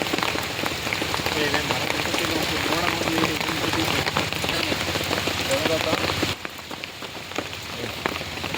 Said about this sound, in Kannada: ನೀರು ಮಳೆ ಬರ್ತಾ ಐತಿ